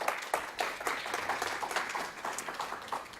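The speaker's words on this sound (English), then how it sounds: "Let's give them a round of applause." An audience at a panel discussion event claps for the panelists: a brief, fairly dense round of applause with individual claps standing out, held at a moderate, even level.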